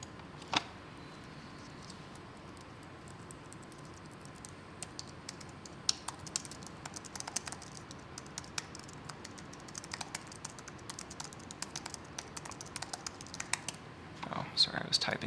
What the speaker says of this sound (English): Sorry, I was typing behind that.